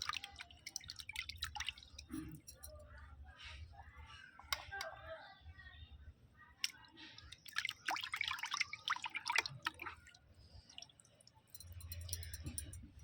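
Quiet, intermittent splashes and drips as a hand stirs water, with soft sloshing bursts scattered across the clip.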